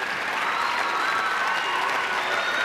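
A packed ice-show audience claps in steady, loud applause that fills the arena for the whole stretch, with no voices rising above it, during an Australian Dancing on Ice broadcast.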